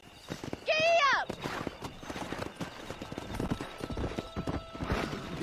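A horse in the video game Red Dead Redemption neighs loudly near the start, then its hooves clip-clop in a quick, steady rhythm as it sets off at a ride, with a voice talking over part of it.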